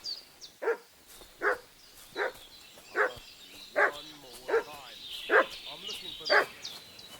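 A dog in Kingdom Come Deliverance 2 barks about nine times at a steady, insistent pace. The barks sound moderately close, and a low murmur of voices can be heard between them.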